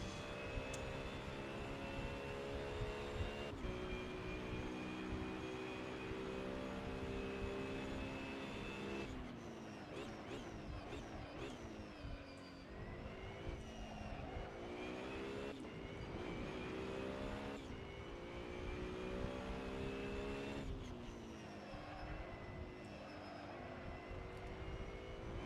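A GT race car engine drones continuously and loudly, rising and falling in pitch through repeated gear changes and throttle shifts over the whole stretch.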